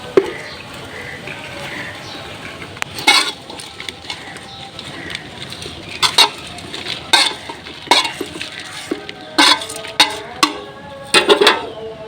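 Green chilli pickle being stirred with oil, a spoon clinking and scraping against the container in irregular bursts, close, over a faint sizzling background with no talk.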